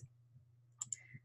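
A computer mouse clicks twice in quick succession, crisp and close, over a low steady background hum, with a faint further tap shortly after.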